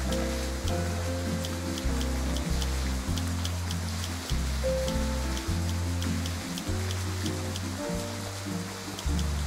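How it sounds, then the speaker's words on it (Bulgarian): Rain falls in a Grow a Garden video game garden, a soft steady hiss running beneath looping, plucky game music. "Не трябва да ползвам лейката, то вече вали"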